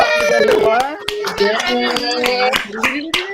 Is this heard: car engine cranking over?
no